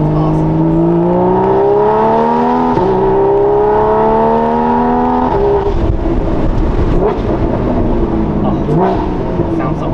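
A Porsche 981 fitted with a Soul Performance competition exhaust revs loudly and up close, its engine note climbing in repeated pitch sweeps through the gearshifts before settling into a rougher, throaty burble.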